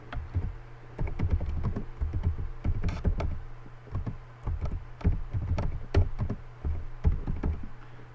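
A computer keyboard is typed on steadily, its rapid clicking and tapping keys close and clear over a faint low hum, with no one speaking.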